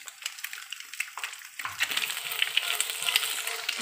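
Chillies frying in a wok, a close crackling sizzle that thickens and grows louder partway through, with light scraping as they are stirred.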